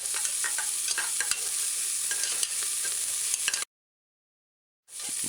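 Thyme, scallion and pimento berries sauté in a pan while being stirred, a close, steady sizzle broken by scraping stir strokes, then a second of silence before the frying returns.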